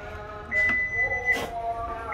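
The power tailgate of a 2021 Toyota Vellfire G facelift (AH30) closes electrically, a soft motor whir with a thin sustained tone and a couple of brief mechanical clunks, moderately close and fairly quiet.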